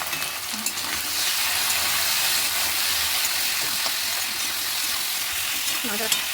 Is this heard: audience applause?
no